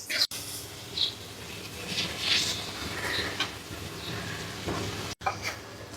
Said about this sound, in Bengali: এটাকে ভালো করে কিছুক্ষণ নাড়াচাড়া করে নিতে হবে যেন হলুদের সাথে লাউয়ের ঠিক ইয়াটা ঠিকলাটা ভালো করে মিশে যায়